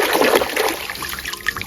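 Water rinsing a power tool as it is cleaned, a steady splashing, trickling flow heard close and fairly loud, with no talk over it.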